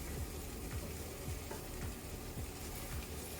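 Egg sizzling and frying in a hot pan, a steady quiet crackle with faint, regular scraping or stirring strokes and no talking.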